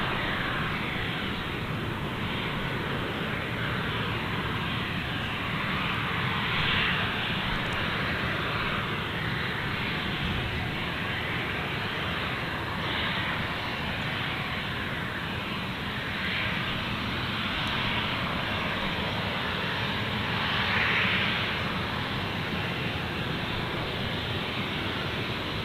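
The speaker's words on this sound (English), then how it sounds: "the last departure we'll see today, unless something surprises me, will be that 737 that's sitting at the back there with Dylan on it" A Boeing 737 jet departing Gold Coast Airport roars as a broad, sustained engine rumble that stays steady and moderately loud for about twenty-five seconds, heard from a distance with no voices.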